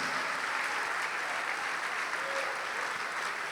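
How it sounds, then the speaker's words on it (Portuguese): A church congregation applauds in praise, a steady, even wash of many hands clapping together, somewhat distant and quiet, sustained without a break. "Vamos aplaudir mais ao nome de Jesus."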